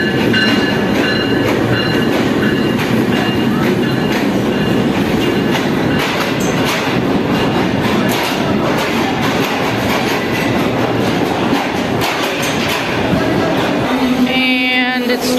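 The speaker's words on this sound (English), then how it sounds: "So it looks like our train is coming." A train pulls into a crowded station in Pakistan, with a continuous loud rumble and clatter of rail cars throughout and a brief squeal of wheels near the end.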